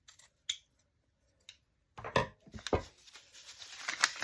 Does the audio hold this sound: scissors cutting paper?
yes